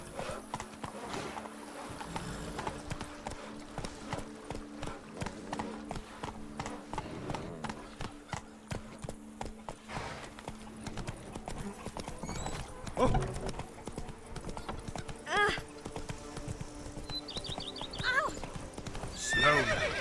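A horse gallops with rapid clip-clop hoofbeats and whinnies in Witcher 3, the game's music and ambience running underneath, with a voice speaking briefly over it.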